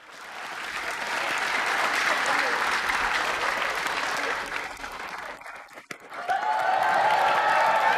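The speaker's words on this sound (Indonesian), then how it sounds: "Kita beri tepuk tangan untuk teman-teman mereka semuanya, yuk." A studio audience on an Indonesian late-night TV show applauds loudly and continuously, the clapping dipping briefly near the end before swelling again with some cheering.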